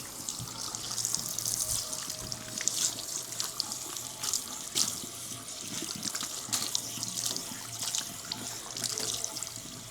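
Tap water runs steadily at a salon shampoo basin, rinsing shampoo from a client's hair, a continuous close splashing rush with small irregular spatters, no talking.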